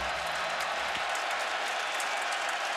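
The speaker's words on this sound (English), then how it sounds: "Crowd trying to urge on that defense" A stadium crowd of over 80,000 at a Big Ten college football opener roars to urge on the defense, a broad, distant and sustained wash of cheering with a soft thump early on.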